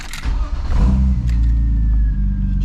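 BMW E36 engine being switched off and cranked back on, a close, loud low rumble that briefly surges as it restarts and then settles into a steady idle.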